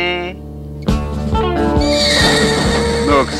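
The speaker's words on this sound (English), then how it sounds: "This is the orneriest horse in Polecat Flats." A loud cartoon horse whinny rises and falls, followed by rhythmic hoof clip-clops in the foreground.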